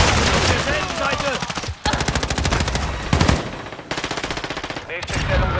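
Rapid automatic gunfire from Call of Duty: Modern Warfare 2 multiplayer on the Crown Raceway map, loud and close, coming in several sustained bursts separated by short pauses.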